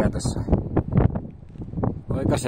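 Wind gusting across an empty, open fell in Finnish Lapland, buffeting the microphone in loud rushes while someone talks over it.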